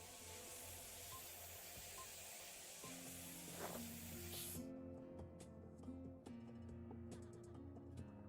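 In the Mars survival game Occupy Mars, a compressor air spray blasts dust off a building with a loud, steady hiss that cuts off about halfway through, followed by quieter tonal game sounds.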